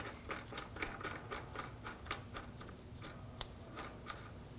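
An axle nut being threaded and snugged onto the rear hub of a 2016-2022 Honda Pilot: faint, rapid metallic clicks and ratcheting ticks in an irregular patter, quiet and close, with no talking.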